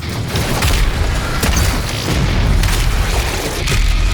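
A grenade blast in Doom Eternal, heard as a loud, dense, rumbling roar of explosion noise that fills the whole span with no break, and sharper bursts flare within it.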